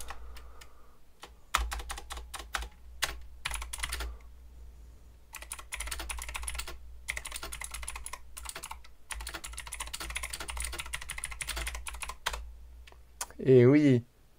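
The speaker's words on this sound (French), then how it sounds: "Le bruit du clavier c'est pour me tuer" Typing on a computer keyboard, bursts of quick key clicks separated by short pauses and close to the microphone, with a brief voice near the end.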